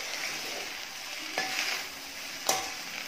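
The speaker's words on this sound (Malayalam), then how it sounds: "എന്നിട്ട് അതുകൂടി പതുക്കെ റൈസിലെല്ലാം ഭാഗത്ത് എത്തുന്ന പോലെ ഇളക്കി കൊടുക്കാം." Egg fried rice with black pepper powder being stirred in a pan: a steady, close frying hiss with two sharp spatula scrapes against the metal.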